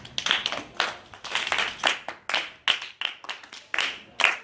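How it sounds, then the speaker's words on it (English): An audience at a play-based learning workshop claps for themselves, rhythmic bursts of hand claps in quick repeated groups, fairly close and crisp. "First clap for yourselves."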